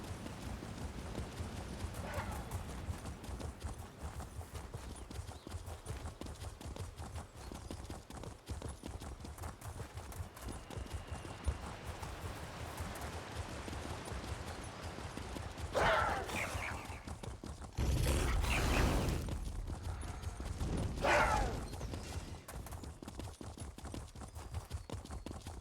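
Horse hooves clip-clopping steadily on a ride along the eastern shore of Somerset, a continuous even rhythm of hoofbeats close by with a few louder bursts of movement near the end and no talk.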